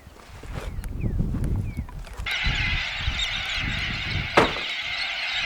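A flock of geese honking in a loud, continuous chorus, rising partway through, with low rumbling and splashy movement underneath.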